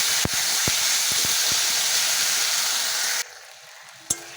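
Tomatoes sizzle and fry steadily in a hot pan for about three seconds with a few soft scrapes of stirring, then the frying drops away to near quiet, broken by one sharp clink.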